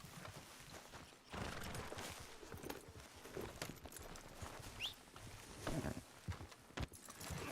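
A deputy's horse in Red Dead Redemption 2 trotting off, with steady clip-clopping hoofbeats at moderate volume over low ambient game noise.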